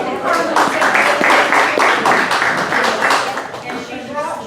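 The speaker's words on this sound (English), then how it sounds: "Y'all need to give her a round of applause." A room of people at a county school board work session claps together in a dense, steady burst of applause that swells and then thins out over a few seconds.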